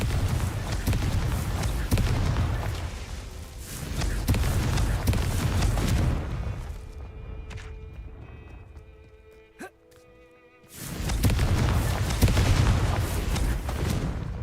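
A Confringo fire spell from the Hogwarts Legacy video game erupts in a burst of booming explosions amid sustained magical blast noise, quiets briefly with a sharp crack, then roars back loudly.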